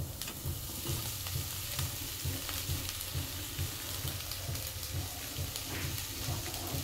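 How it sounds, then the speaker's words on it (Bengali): Boiled pasta tossed and stirred in a hot pan with a spatula, giving a steady sizzle under rhythmic scraping and stirring strokes close by, with no talking. "চলো এবার সেদ্ধ করে রাখা পাস্তাগুলো অ্যাড করব"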